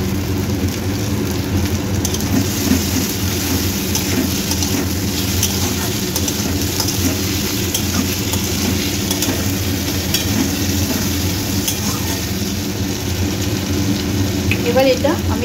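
Tomatoes frying in hot oil for a Bengali oil-cooked koi fish dish give off a steady, even sizzle with fine crackling that runs unbroken from start to finish.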